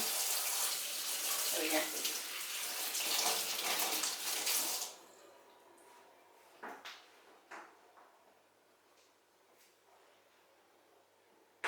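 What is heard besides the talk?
tap running while washing hands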